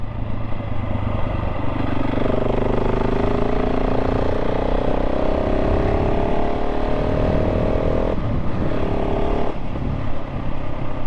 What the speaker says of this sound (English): They've got quite an addictive sound to them.